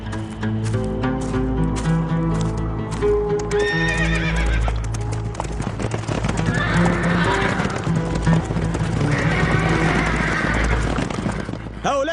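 Horses in an animated film whinny and neigh repeatedly while hooves clip-clop steadily beneath, loud and close, with voices and cattle-like lowing mixed into the busy scene.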